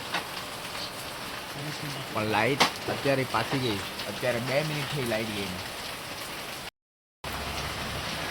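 Heavy monsoon rain hisses steadily throughout while someone talks over it; the sound cuts out briefly near the end.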